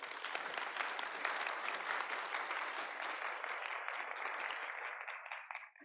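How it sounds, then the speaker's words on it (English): Conference audience at an open repositories session applauding, a sustained even roar of many hands clapping, fairly distant, tapering slightly before stopping. "can we have a round of applause, please?"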